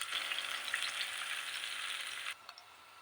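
Onions, curry leaves and dried red chillies sauté in hot oil in a pan, giving a close, bright continuous sizzle that drops away sharply near the end, leaving faint clicks.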